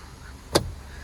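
A single brief mechanical scrape or rattle in the cabin of a 2009 Honda CR-V 2.0, as the sticking sunshade roller blind moves along its guide, sounding once against a quiet interior.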